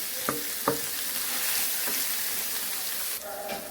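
Chopped potatoes are stirred in a pan on low gas: a constant close sizzle of frying broken by a few sharp scraping knocks from the spoon, with no talking.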